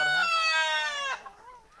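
Sonali desi chickens and roosters on a free-range farm, a loud close rooster crow with harmonic squawking, followed by softer clucking.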